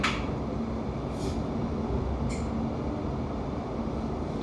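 Inside a London Overground Goblin Line train bound for Gospel Oak, a constant heavy rolling roar fills the carriage, broken by two short hissing bursts.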